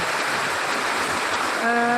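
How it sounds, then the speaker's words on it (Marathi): Heavy monsoon downpour in Pune makes a dense, constant roar of falling water, loud and close throughout, with a brief tonal voice-like sound at the very end. "प्रचंड पाऊस चालू आहे"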